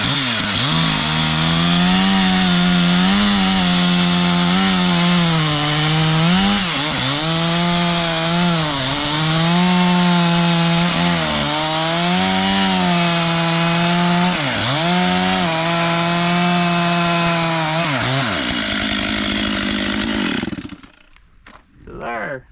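A chainsaw cuts through firewood laid on its side outdoors in snow, roaring loudly and steadily for about twenty seconds with rhythmic dips in pitch as it bites the wood, then dropping to idle and cutting off; a person talks over it.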